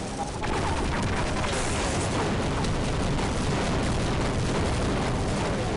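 Sustained, dense barrage of heavy booming fire from a Gauss Cannon in a video game, loud and continuous throughout with no pauses, like a powerful weapon blasting repeatedly at close range.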